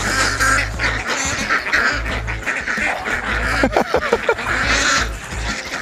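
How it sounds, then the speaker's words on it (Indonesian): Ducks quack several times close by over a steady low rumble, the calls clustered in short bursts with a louder run near the end. "Bebeknya datang."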